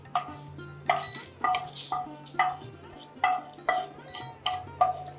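A pan of dry-roasted spices being handled as it comes off the heat: a string of roughly nine metallic scrapes and clinks, about two per second, sounds close over a steady low hum.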